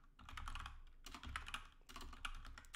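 Rapid clacking keystrokes on a computer keyboard come in three quick bursts with short pauses between them, close and clear with no talk.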